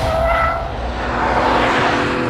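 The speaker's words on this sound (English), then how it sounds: "I had the chance to experience the new car at high triple-digit speeds with electronics switched on" A BMW M340i driven hard at high speed on a track, its engine note and road roar steady and loud throughout, with a brief tonal whine near the start and no talking.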